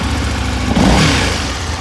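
2005 Aprilia RSV1000R superbike engine running close by, a loud steady rumble with a slight swell partway through.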